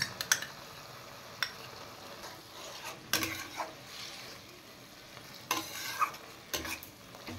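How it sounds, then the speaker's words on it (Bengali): Bok choy stir-fried in a pan with a soy sauce and tomato sauce mixture, a steady sizzle broken by several sharp scrapes and clatters of the stirring utensil, close and moderately loud with no talking. "পুরোটা একসাথে মিশিয়ে আর একটু ফ্রাই করে নেব নাকি?"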